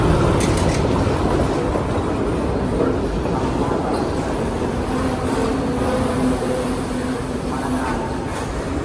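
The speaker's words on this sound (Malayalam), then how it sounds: "ഈ കടന്ന് വരുന്ന ട്രെയിനിലാണ് നമുക്ക് പോകാനുള്ളത്." A Sri Lanka Railways train on the coastal line pulls into a busy station, a steady loud rumble of wheels and carriages filling the whole stretch with faint squeals and clatter, amid platform crowd noise.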